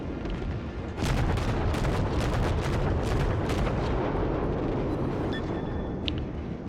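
Heavy naval guns fire in World of Warships. A loud rumbling salvo starts suddenly, and overlapping booms and rolling thunder continue for several seconds, with a faint beep near the end.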